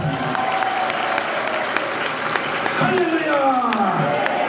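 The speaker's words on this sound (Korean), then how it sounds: "너 박수 한번 해봐" A church congregation applauds in a dense wash of hand claps that runs throughout, with voices and a sustained tone over it.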